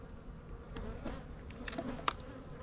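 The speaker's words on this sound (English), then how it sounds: "they're kind of buzzing my face right now" Bees buzzing around an open beehive on a warm day, a soft continuous hum with individual bees zipping close past the listener in brief louder passes.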